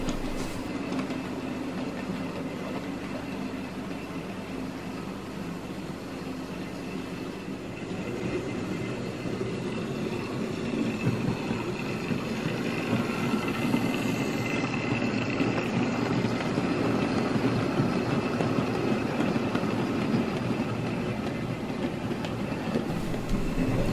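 A Hornby Terrier model locomotive pulling wagons rumbles steadily along a track with continuous rolling and faint clicking, building slightly louder over time.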